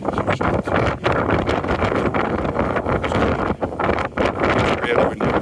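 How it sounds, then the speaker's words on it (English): Strong wind batters the microphone on an exposed hilltop walk, a loud, continuous roaring rumble with gusty surges and dips throughout, no speech heard. "It's really windy up here."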